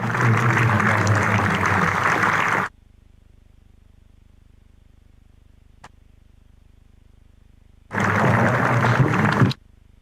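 Loud cricket crowd applause at Hove as players leave the ground fills the opening seconds, then cuts to near silence with one sharp tick before a second burst of clapping returns.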